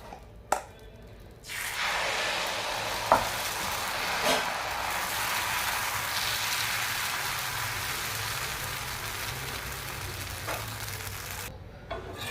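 Jackfruit dosa batter poured onto a hot pan bursts into a steady, hissing sizzle that lasts about ten seconds, with a few light clicks and taps from utensils nearby.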